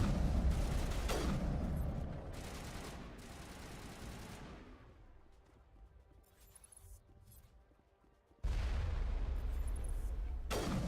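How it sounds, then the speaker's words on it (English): Artillery fire in the Mass Effect video game, a dense rumbling barrage of booms that fades to a quieter lull before another loud burst kicks in abruptly near the end. "Oh, this looks like artillery piece to me."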